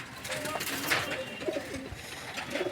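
A breeding pigeon coos in several soft, rolling calls close by, with faint talk in the background.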